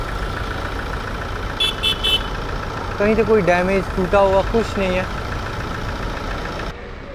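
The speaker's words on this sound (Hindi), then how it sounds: "अगर आप इंजन की साउंड सुने तो इंजन की साउंड परफेक्ट है, कोई मेजर साउंड नहीं है।" A Tata Hexa SUV engine idles with a steady low rumble throughout while someone talks over it nearby.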